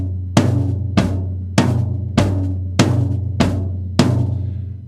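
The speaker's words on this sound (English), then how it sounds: "instead of playing the snare on the 2 and the 4, we're going to move it up to the medium tom" A drum kit plays a simple beginner quarter-note beat with the medium tom taking beats two and four in place of the snare. Seven strong, evenly spaced hits sound close and loud, each with a booming decay and no voice over them.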